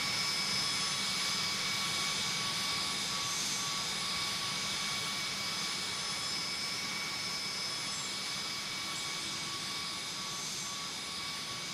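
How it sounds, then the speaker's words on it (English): Embraer 145 jet taking off in the Tower! Simulator 3 game at Burbank, a steady, fairly loud engine roar with high whining tones that runs unbroken through the whole stretch, no talk over it. "We'll go ahead and have this one take off."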